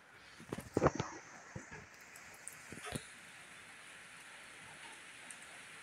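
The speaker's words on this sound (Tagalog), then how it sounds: "Lakas po ng ulan dito sa amin guys." Steady hiss of heavy rain falling throughout, with a few louder drips and knocks near the start; no voices.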